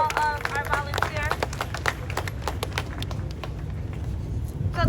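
A crowd at a Million Man March rally in Columbia, South Carolina, claps steadily in a dense patter of applause, with voices and a cheering shout mixed over the sound.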